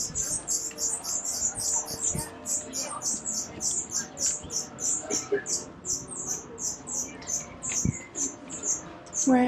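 Baby birds in a nest in a town near Frankfurt chirp constantly in quick, high, rhythmic peeps, fairly faint against outdoor background noise, with no talk during the chirping.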